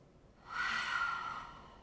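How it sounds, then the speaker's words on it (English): A single slow, deep breath drawn and released during a guided relaxation session, a soft airy rush that swells and fades with no talking. "let's just start with breathing"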